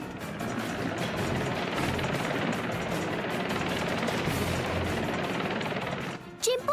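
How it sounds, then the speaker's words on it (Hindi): A helicopter's rotor thrums loudly and continuously for several seconds, then the sound cuts off abruptly near the end. "हेलीकॉप्टर को और ऊपर की तरफ उड़ाओ"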